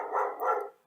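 A pet dog gives one short, close bark that rises and falls twice within a second.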